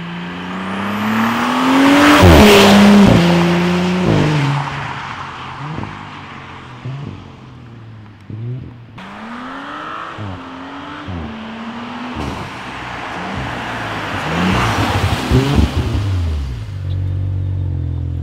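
An Audi B9 S4 with a V6 single-turbo engine and an ECS X-pipe exhaust revs repeatedly, loud and close, rising and falling through several long pulls.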